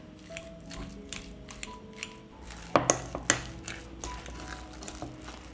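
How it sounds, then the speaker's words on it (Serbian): Three peeled, boiled white potatoes being mashed with a fork in a bowl: soft squishing and scattered metallic clinks and taps, with a few sharper knocks clustered midway, close and fairly quiet, with no talking. "I oljušten krompir izgnječet ću sa viljuškom."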